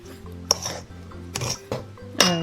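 Flour, baking soda and salt being mixed in a bowl with a utensil, giving several separate clinks and scrapes against the bowl, close up and fairly loud, with pauses between strokes.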